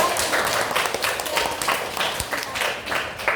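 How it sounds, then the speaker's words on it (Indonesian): Classroom group applause in Indonesia, a dense, steady patter of many hands clapping together for several seconds, fairly close and loud, with faint voices underneath. "Kita berikan tepuk tangan untuk kita semua."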